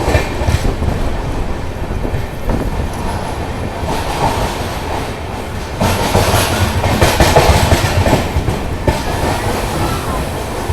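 Wheels of an LHB passenger coach on the Palnadu SF Express clatter steadily over rail joints between Guntur and Secunderabad, a loud continuous rumble with rhythmic clickety-clack and no talking.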